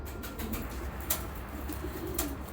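Pigeons of a long-kept strong breed coo softly in a loft, low murmuring calls running through the background with a couple of brief sharp rustles or wing flicks, fairly faint and with no talking.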